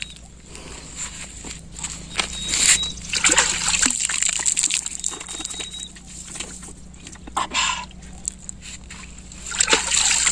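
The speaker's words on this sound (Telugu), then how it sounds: "కుమార్ ముఖం కడుక్కుందాం" Water from a forest rock pool splashes and trickles in repeated bursts as hands scoop it to wash a face, close by, with faint outdoor ambience between.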